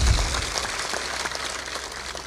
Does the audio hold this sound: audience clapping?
yes